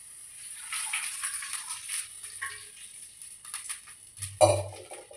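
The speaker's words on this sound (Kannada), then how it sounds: "ಫಸ್ಟು ನೀರು ಹಾಕೋಬೇಕು" Water goes into a pan for instant Maggi noodles with faint, scattered splashing and light metallic clinks, then a louder splash and knock near the end.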